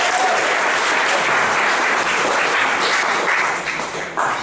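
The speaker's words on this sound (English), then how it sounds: "a little round of applause for him" Warm applause from an audience at a book launch, a dense even wash of clapping that stays loud before tapering slightly near the end.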